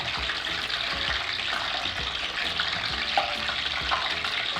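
A test scrap of sufganiyot dough fries in hot oil with a steady, close sizzle, with faint pops and bubbling scattered through the hiss.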